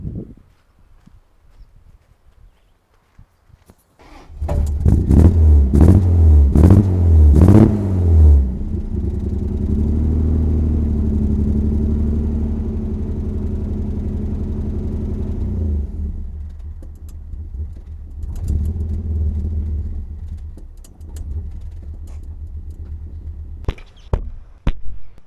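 Toyota Land Cruiser started and moved out of the way in a workshop: an engine cranks to life with a few sharp revs, settles into a steady idle rumble, then shifts tone briefly as it moves before fading to quiet.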